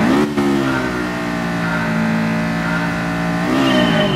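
A VTEC race car engine in the video game Gran Turismo Sport holds a loud, steady high-pitched drone, dipping briefly at the start and climbing again near the end as it revs.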